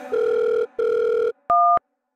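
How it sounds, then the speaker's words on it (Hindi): A phone call placed on speakerphone: two long, steady ringback tones separated by a short gap, then a brief higher two-tone beep, loud and close with no talking. "अपना माइक लगे फोन लगाओ। लगाओ स्पीकर ऑन कर।"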